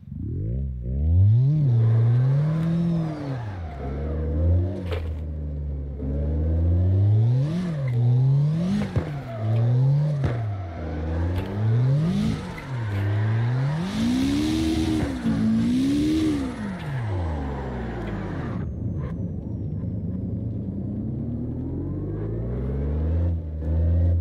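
A drift car in CarX Drift Racing Online revs up and down repeatedly through a long drift, its engine rising and falling in steady waves with tire squeal over the top, loud and close.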